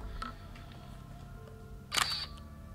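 A single film camera shutter clicks sharply once against a quiet room hum, close by.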